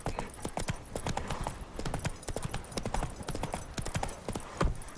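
Roach the horse from The Witcher trots along in a steady clip-clop of hooves, close and clear, with no voices over it.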